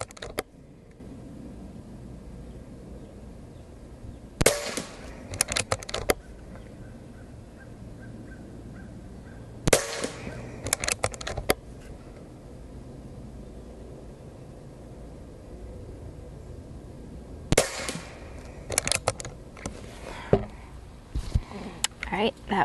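Umarex Origin .25 calibre PCP airgun firing a string of shots, each a sharp brief crack with a short tail, in loose clusters spread across the stretch over a steady outdoor background hiss.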